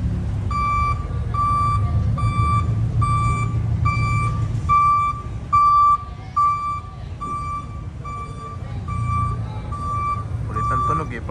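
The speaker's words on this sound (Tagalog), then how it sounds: "Ulit ang tunog eh pag nag-reverse eh." A vehicle backs up at a Shell station in Mamplasan, its reversing alarm sounding a steady series of evenly spaced, loud beeps over a low engine rumble, with faint voices nearby.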